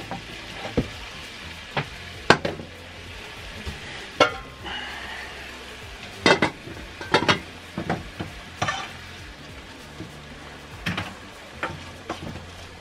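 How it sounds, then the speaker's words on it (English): Mushroom curry simmers and sizzles in a pan for a mushroom pasanda, a steady frying hiss broken by scattered sharp ticks and pops from the utensil against the pan. "you can hear that simmering away"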